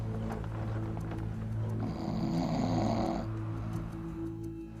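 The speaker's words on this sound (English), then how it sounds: "but mostly the snoring." A person snores through the night during a trek in remote Patagonia, a steady, loud rasping snore that swells in the middle, set against a low constant hum.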